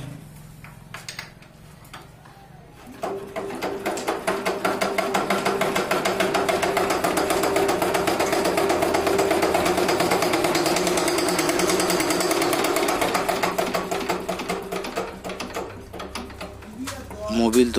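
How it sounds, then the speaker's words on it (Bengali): A Chinese diesel engine with a fault starts up after a quiet opening and runs loud and close, hammering with a rapid, harsh knocking clatter that holds steady for about fifteen seconds. "আমি ঘুরিয়ে দেখলাম যে ইঞ্জিন থেকে একটা বিশ্রী আওয়াজ।"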